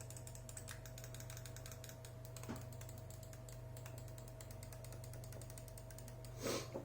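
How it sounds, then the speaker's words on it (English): Ajazz AJ390 gaming mouse buttons clicked over and over, giving crisp, sharp, closely spaced clicks in a quiet room with steady low hum underneath; no one speaks. "The Dpi Click is solid. The clicks are all solid"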